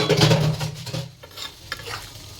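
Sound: water added to pan of potatoes and banana flower

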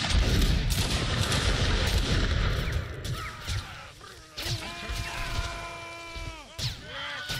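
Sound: musket gunfire in a line battle video game

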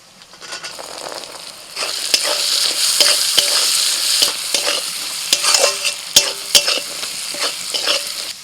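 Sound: stir-frying shelled peas with spices

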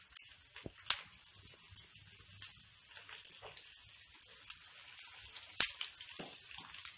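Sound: green chillies frying in hot ghee

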